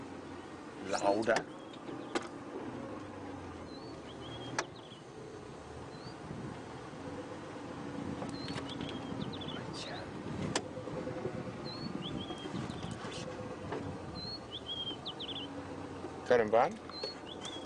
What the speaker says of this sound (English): Bird calls are getting louder.